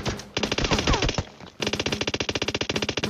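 Rapid automatic gunfire in the battle royale game PUBG Mobile: a fast burst of sharp shots, a brief break with scattered pops, then a longer steady rattle of evenly spaced shots, close and loud.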